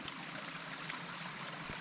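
A mountain stream trickles steadily along a hiking trail on the Black Mountain Crest route to Mt Mitchell, a soft continuous babble of water heard up close with no talking.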